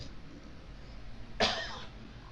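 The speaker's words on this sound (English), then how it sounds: "Just got this cough left, every once in a while." A single short, husky cough from someone getting over a cold stands out against a quiet room hum.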